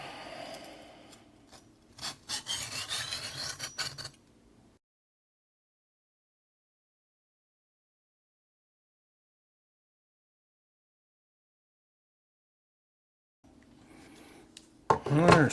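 A Chicago Cutlery knife is stroked against a $20 diamond stone in a few short, gritty scraping passes near the start and again at the very end, with long silence in between.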